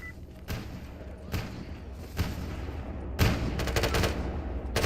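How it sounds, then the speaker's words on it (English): Distant gunfire in the STALKER GAMMA video game, several bursts of muffled shots and rattling volleys over a steady rumbling ambience, with no talking. "Still hearing gunfire."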